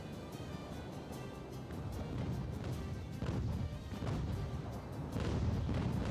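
Naval cannons on wooden sailing ships fire a broadside in Ultimate Admiral: Age of Sail, a series of rolling, muffled booms and crashes over a rushing sea-like wash, moderately distant.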